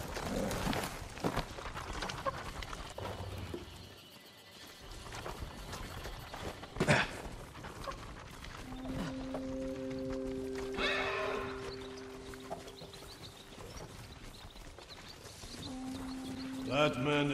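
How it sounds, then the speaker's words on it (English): Horses in a feudal Japanese video game setting, with whinnies and hoof clatter amid gameplay sound effects and music tones, levels rising and falling across the passage. "Follow those horses."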